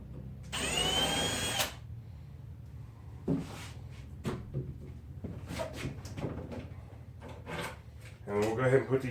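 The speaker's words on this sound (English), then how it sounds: "Right now, we're just going to start stripping the hardware off these doors. So let me get that done. We'll grab our drill." A cordless drill whirs in one sustained burst while stripping hardware off shed doors, followed by short screw-driving bursts, clinks of loose parts and handling noises, with a voice talking at times.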